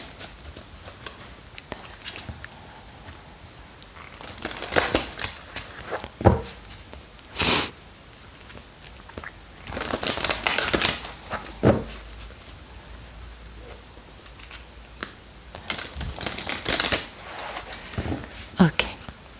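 Tarot cards being shuffled by hand, with intermittent bursts of papery riffling and flicking spread across the stretch, some louder than others, with quiet pauses in between and no talking.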